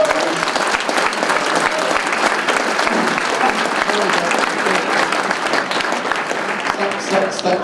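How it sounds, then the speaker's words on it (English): A large crowd at a Toronto Blue Jays Hot Stove event in Fort McMurray in 2016 claps steadily and loudly throughout, the dense applause filling the room without a break. "Big round of applause."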